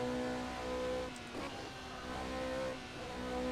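A prototype race car in the Assetto Corsa sim, a Radical-based machine with a motorbike-like engine tone, hums steadily at moderate volume with slight rises and dips in revs, no voices over it.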